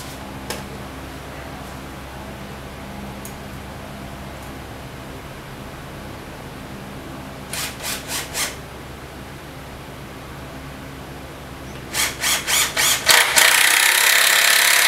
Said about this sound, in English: I think I'll shoot a screw in there, just a temporary one, just to hold them in place.